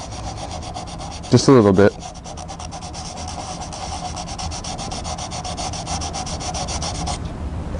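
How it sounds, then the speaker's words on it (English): Hand sanding of an iron door with 400 grade sandpaper: a sustained, even scratchy rubbing stroke heard up close, with a short louder scrape early on and a few quiet spoken words. "So we're going to take 400 grade sandpaper, you can buy this anywhere, and just gently sand that area."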